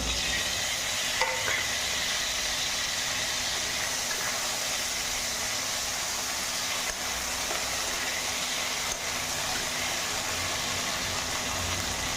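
Potatoes and chopped tomato fry in a pan for aloo posto, giving a steady, close sizzle that holds level throughout with no talking.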